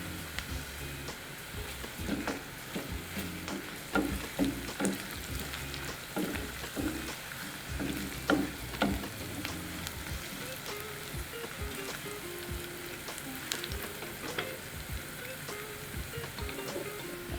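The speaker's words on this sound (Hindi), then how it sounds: "एक चम्मच अदरक लहसुन पेस्ट डालें और इसे फ्राई करें।" Ginger garlic paste sizzles steadily in hot oil with curry leaves in a pan, giving a continuous soft frying crackle with faint scattered pops and stirring sounds at moderate distance.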